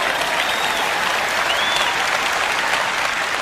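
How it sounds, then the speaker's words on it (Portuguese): A church congregation applauds to honor God during a Portuguese-language sermon, a dense, steady wash of many hands clapping at once, sustained and fairly loud with no pauses throughout. "levante-se e dê um aplauso ao nosso Deus"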